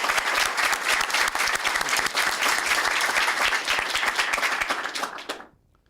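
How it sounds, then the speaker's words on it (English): Audience applause at the swearing-in ceremony for a United States Attorney General, a dense sustained round of clapping from a crowd that carries on steadily and then fades out quickly at the end. "I think we owe him a round of applause."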